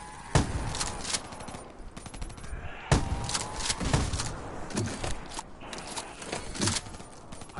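Repeated shotgun blasts in Black Ops 3 zombies mode, loud sharp bursts at irregular intervals over a busy game background of clatter and effects.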